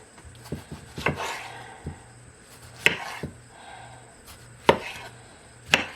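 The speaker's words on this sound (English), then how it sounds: "So we're going to go ahead and we're going to cut them open." A knife cuts open Black Krim tomatoes on a board as they are readied for canning, giving a close series of sharp, irregular taps and thuds with brief slicing rubs between them and no talking.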